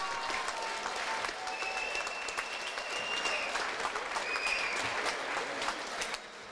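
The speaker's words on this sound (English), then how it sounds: "a big round of applause for both these men after five hard-fought rounds" A crowd applauds both boxers after five hard-fought rounds at a Muay Thai fight night in Birmingham, with dense, sustained clapping and a few whistles throughout before the applause drops off at the very end.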